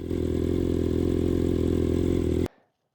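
A BMW M1000RR motorcycle fitted with a loud full exhaust holds a harsh, steady, close rumble with rapid pulsing for over two seconds, then cuts off abruptly into silence.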